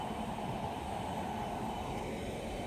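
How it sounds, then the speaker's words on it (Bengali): A local train pulls out of Majerhat railway station with a steady, dense rumble and hiss that holds at an even loudness throughout, with no voices. "এই যে ট্রেনটা বেরিয়ে গেল, লোকাল ট্রেন।"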